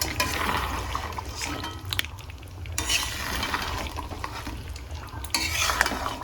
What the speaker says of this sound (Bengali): চিকেন চিকেনটা এখন আমি নাড়াচ্ছি